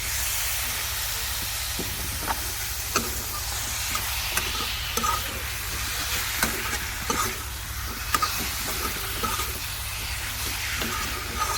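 Pork frying in a pan with cumin and coriander powder, a steady loud sizzle and hiss broken by repeated clinks and scrapes of stirring, with a low constant hum beneath and no speech.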